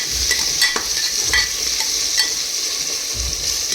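Onion frying in a pan with a pinch of turmeric, a loud continuous sizzle with scraping stirring strokes, close up and with no talk.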